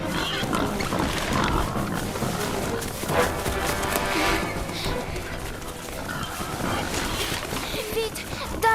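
Wild boars charge through a forest in a rushing, noisy burst of grunting, crashing and trampling that fills the scene, with voices mixed in.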